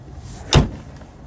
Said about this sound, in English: Let's just close these doors.